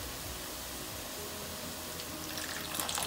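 Water poured into a pan of egg curry during cooking, a steady hissing rush throughout, brightening and splashing toward the end, close by.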